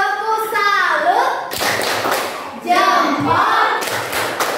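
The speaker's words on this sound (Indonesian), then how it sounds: "Kasih tepuk salut dulu untuk Ergia. Tepuk salut." A classroom of students claps a rhythmic applause chant in two bursts of patterned claps. Children's voices chant along with the clapping, loud and close.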